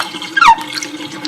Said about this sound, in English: We're going to let that water out